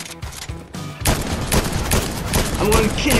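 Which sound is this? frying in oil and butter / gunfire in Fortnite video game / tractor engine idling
gunfire in Fortnite video game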